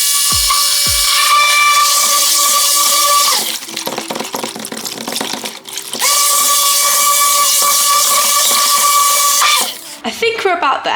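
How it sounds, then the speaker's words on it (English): A stick blender running at its highest speed mixes soap ingredients, a loud high whine in two long bursts with a pause of stirring and clatter between them. "I've got my stick blender in on the highest speed, and we're gonna mix this in until there's no more dry ingredients that we can see"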